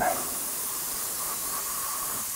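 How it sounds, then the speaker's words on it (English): Aerosol spray can laying down a light primer coat on the turret of a Tamiya T-55 model tank, a steady close hiss running without pause for a couple of seconds. "So, spray the turret."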